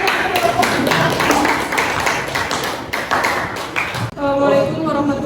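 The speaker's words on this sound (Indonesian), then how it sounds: "Kita beri tepuk tangan." Classroom applause for a presenting student group: a dense run of clapping hands with sharp taps over several seconds, stopping abruptly before a voice begins speaking.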